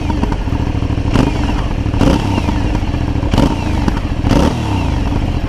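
An Aprilia Shiver 900 motorcycle's exhaust, close and loud, holds a steady idle that jumps into four sharp revs at roughly even intervals, each one blipping up quickly and falling back.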